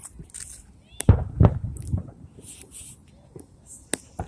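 Fireworks going off outdoors: several sharp bursts and booms, the loudest a quick pair early on and another near the end, with crackling and faint voices in between.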